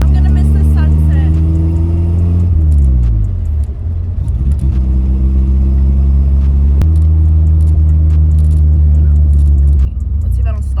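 Nissan 240SX with a fuel leak and prone to stalling, its engine droning loud and close throughout with rising revs that drop at shifts, a voice talking over it.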